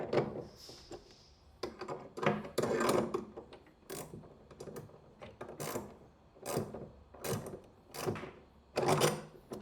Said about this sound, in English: Grab the threaded rod with a plier so that it doesn't rotate. And tighten the nut until this plate starts bending.